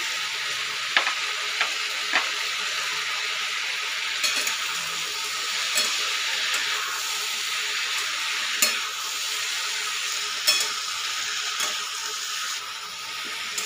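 Ground spice paste frying with vegetables in a pan for a Bengali rui fish curry, a steady close sizzle with occasional sharp clicks and scrapes of stirring, no voices.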